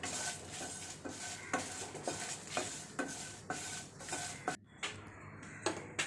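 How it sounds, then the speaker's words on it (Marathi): Garlic roasts lightly in a pan over a low flame, with a steady soft sizzle broken by regular scraping strokes of a spatula about every second, fairly close and with no talking. "लसूण पण आपल्याला हलकी भाजून घ्यायचे आहे."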